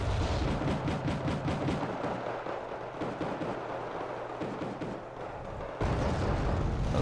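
Missiles and weapons fire in a World War III-style strategy game tournament match, a dense continuous barrage of booms and rapid gunfire crackle with a sharp louder burst near the end, no voices.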